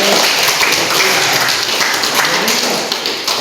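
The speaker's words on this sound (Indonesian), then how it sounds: "kita berikan aplaus untuk" A room of people clapping in a steady, dense wash of applause that holds for about three seconds before easing off slightly, with no voices above it.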